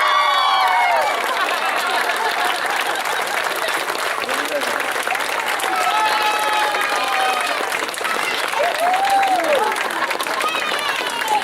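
A crowd applauds and cheers steadily at a county fair after the Junior Fair Queen is announced, with whoops and shouts rising above the dense clapping throughout.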